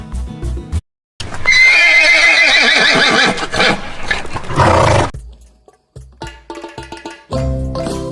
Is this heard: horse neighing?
yes